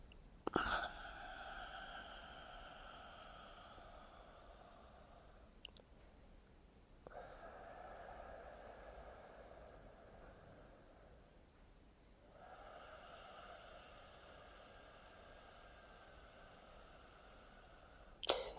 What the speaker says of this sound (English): you'll continue to do that lovely deep breath for 8 repetitions